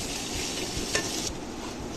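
Small and large onions frying in a pan for a Kerala-style chicken fried gravy, giving a steady close sizzle with a soft scrape of stirring near the middle.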